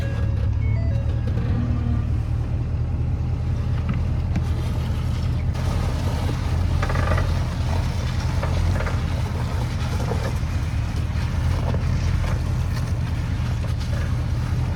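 A towing vehicle's engine drones in a steady, loud low rumble throughout while it pulls a vehicle that is out of gas along by a tow strap. No voices are heard.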